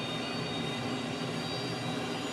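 Tutor CT-114 jet engine thrust spooling up during a takeoff run in a VR flight simulator: a steady, dense roar with a faint high whine, holding even throughout.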